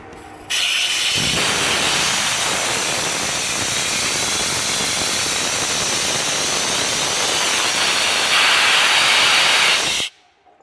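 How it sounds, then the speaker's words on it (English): High-pressure gas rushing out of an opened oil well valve, a loud harsh hiss that starts abruptly, roars steadily for about nine seconds, swells slightly near the end, then cuts off. "I'm going to go ahead and open up the valve. It's going to be pretty loud."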